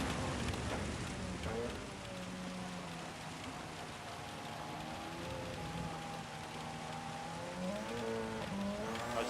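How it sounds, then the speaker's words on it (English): Heavy rain in a Le Mans endurance racing video game, a dense steady wash of spray blended with the droning engine note of a race car, continuous throughout. "Well, that rain's really coming down."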